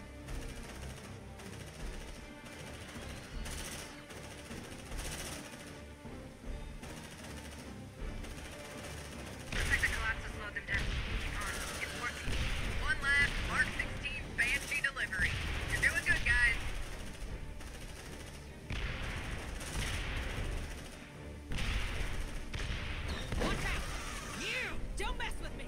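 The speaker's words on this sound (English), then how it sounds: "I need to barrage fire that." Barrage gunfire from squad weapons in the video game Aliens: Dark Descent, sustained bursts of rapid shots and crashing impacts that swell loud in the middle, layered with game effects and occasional speech.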